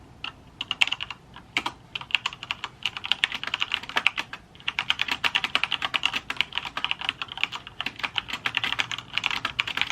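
Rapid, continuous typing on a computer keyboard while drafting a book chapter, dense close clicking in steady bursts with brief pauses and no talking.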